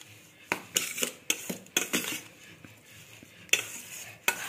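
Lemon juice, water and other ingredients are stirred together in a bowl to season corn Maggi noodles, giving a run of scraping and clinking spoon strokes in uneven bursts, close and moderately loud, with no talking.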